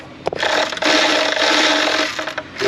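A wrench works the adjuster bolt on the 3.3 engine of a 2000 Nissan Pathfinder, giving close scraping, rubbing and ratcheting metal sounds in short bursts with brief pauses.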